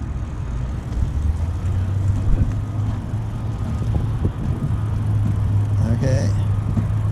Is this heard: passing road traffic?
yes